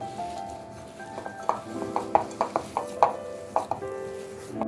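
Aloo tikki mixture of potato with onion, chillies and lemon juice being mixed in a bowl, a series of soft spoon clinks and scrapes against the dish in an uneven rhythm, close and fairly quiet with a faint background hum.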